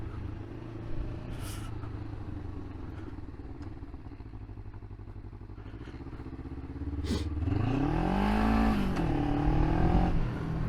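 A Kawasaki ER5 motorcycle engine under way on a ride, a steady close rumble that swells into a rising rev near the end, with brief clattering knocks along the way.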